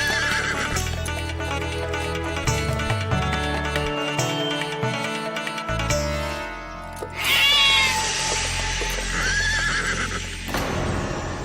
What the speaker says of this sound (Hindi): बिल्ली ने रास्ता काट गई